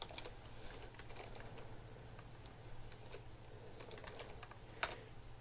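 Someone types code on a computer keyboard, a quiet stream of rapid, irregular key clicks with one sharper tap near the end, heard close with a faint low hum underneath.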